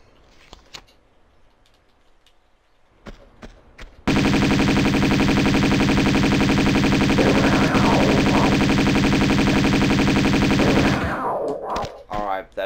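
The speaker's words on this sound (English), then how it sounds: "we're going to get the Uzis out now because we're going to face some snow leopards" Sustained Uzi fire in Tomb Raider II at snow leopards in the Tibetan Foothills: a loud, continuous automatic burst lasting about seven seconds, preceded by quiet footsteps and trailing off into softer game sounds.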